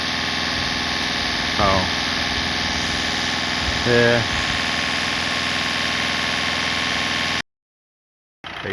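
A Volkswagen Golf Mk6 engine idles steadily during a hydrogen carbon clean, a constant close hum with brief voice remarks over it, cutting out to silence near the end.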